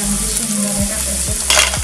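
Peanuts fry in a pan with a bright sizzle as a spoon scrapes through them in three or four quick strokes, close and loud, no talking.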